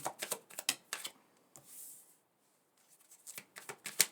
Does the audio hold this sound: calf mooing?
no